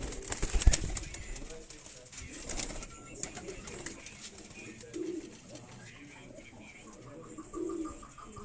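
Pigeons in a Quetta fancier's loft, including chapra and sira birds, coo in low, repeated murmurs at close range. Scattered rustles and soft background noise run underneath.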